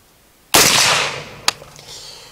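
A K1A submachine gun fitted with a suppressor fires one sharp, loud report on a shooting range, and its hiss trails off over about a second. A small click or bang follows shortly after.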